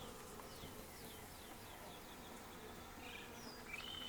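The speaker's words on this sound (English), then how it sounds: "Trying not to crush bees if you're wondering what I'm doing here." Honeybee swarm buzzing steadily while being caught in a cone trap outdoors, a continuous dense hum at low level, with a few faint bird chirps above it.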